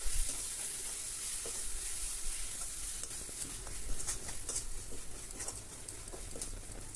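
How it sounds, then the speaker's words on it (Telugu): Garlic paste and red chili paste frying in a pan for village-style country chicken curry, giving a steady close sizzle with light crackling pops throughout. "వెల్లుల్లి పేస్ట్ వేసాం కదా, పచ్చివాసన పోయే వరకు చక్కగా వేపుకోండి"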